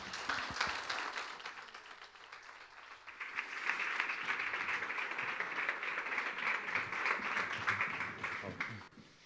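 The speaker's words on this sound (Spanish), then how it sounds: "Así que un aplauso y espero que disfruten." A forum audience breaks into steady, sustained applause, a dense wash of many hands clapping that builds quickly and holds before tapering off near the end.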